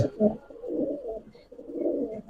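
A highflyer pigeon coos in soft, low repeated phrases, close by and fairly quiet, with no other sound around it.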